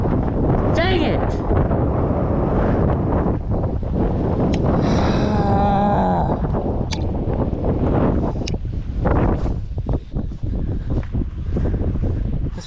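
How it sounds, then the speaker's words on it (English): Strong wind buffets the microphone at a private fishing pond, a constant heavy rumble throughout, with people talking and exclaiming over it. "This wind sucks."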